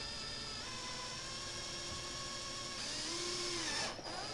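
A power drill bores out the center of a rivet on a Tesla Model 3 rear fender, a steady whining motor tone that rises in pitch near the end, close and alone.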